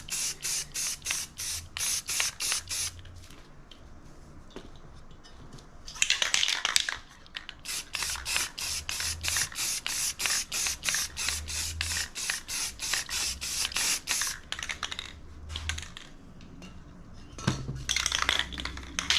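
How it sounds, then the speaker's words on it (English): Short bursts of cranberry-colored spray paint hiss in rapid succession, close and loud, broken by brief pauses and faint rattling. "So we'll spray this in, this kind of dark magenta here called cranberry."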